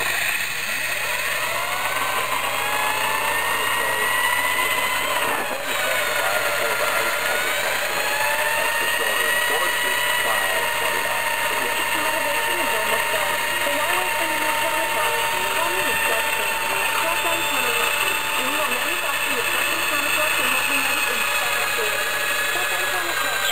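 A Wilesco T90 toy steam turbine runs at about 2 bar, giving a steady, close whirring whine with faint tonal overtones and a constant hiss that holds unbroken throughout.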